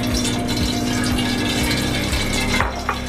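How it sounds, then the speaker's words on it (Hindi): Oil is poured from a cup into a cooking pot, a close, steady liquid gurgling and splashing stream over a continuous hum, ending with a small clatter. "1 प्याली ऑयल मैं इसके अंदर डाल रही हूँ पतीली में"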